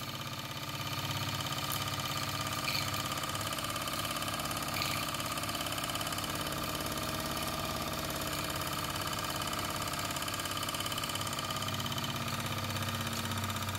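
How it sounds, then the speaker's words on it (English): A homemade model steam engine chugs steadily in a continuous even mechanical rhythm, close and moderately loud, for the whole stretch without any speech. "So there you have it, a real steam engine, just like the olden days."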